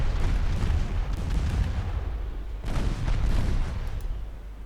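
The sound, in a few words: torpedo explosions hitting a ship in a naval video game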